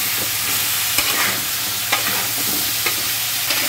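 Eggplant, potato and drumstick pieces fry in hot oil for a fish curry, a steady sizzle broken by occasional scraping stirs of a spatula against the pan, close and continuous with no talking.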